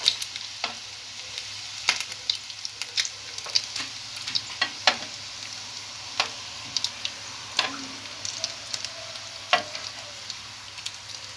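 Potatoes fry in hot oil with a steady sizzle and hiss, broken by sharp clicks and taps of stirring at irregular intervals.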